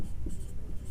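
A pen scratches across paper while a sixth-grade math problem is written out, a brief, close, quiet burst of soft friction strokes with no voice over it.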